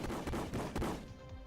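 Gunfire from an attack in the turn-based game Epic Battle Fantasy 5: a quick run of several punchy shots in rapid succession that tails off into a fading echo, heard without any talk.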